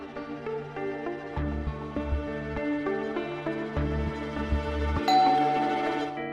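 A doorbell chimes repeatedly over steady background music, the ding-dong tones ringing out clearly and fairly loud.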